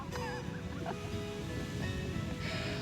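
Ocean surf washes steadily onto a beach at sunrise, a continuous broadband rush with a few faint bird calls and a slight swell toward the end.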